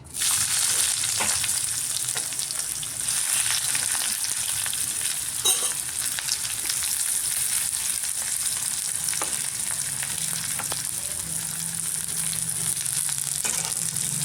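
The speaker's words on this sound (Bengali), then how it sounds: "এবার আলু ভাজা তেলের মধ্যে এখন দিয়ে দেব পেঁয়াজ।" Onions frying in oil left over from frying potatoes, a continuous close sizzle with intermittent scrapes and clatters of stirring throughout.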